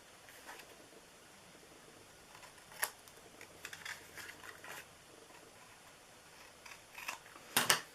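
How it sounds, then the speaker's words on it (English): Scissors trim small paper card pieces, producing a few quiet, scattered snips over a low background hiss, with a sharper cut near the end. "I am going to trim these little side pieces."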